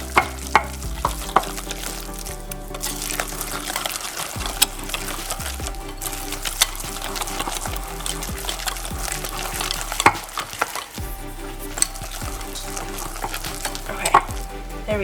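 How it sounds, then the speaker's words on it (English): Dog donut batter gets whisked in a bowl with quick, continuous rhythmic scraping and clicking, close and fairly loud, with a few brief pauses and no voices. "I'm just going to whisk all of this together"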